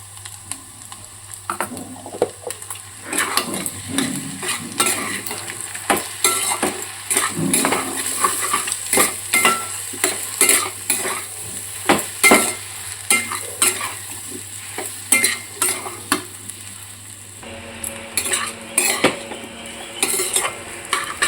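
Curry frying with ginger garlic paste in a pan, a continuous sizzle overlaid with frequent metallic spoon scrapes and clatter as it is stirred, fairly loud and close, with a steady hum beneath.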